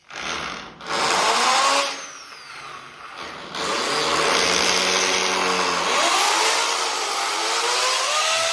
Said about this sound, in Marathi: चला आता ड्रिलचं काम करून घेऊ